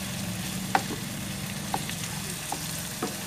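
Chicken pieces sauté in a pan with onion and garlic, giving a steady close sizzle with a low hum beneath and a few soft utensil knocks scattered through.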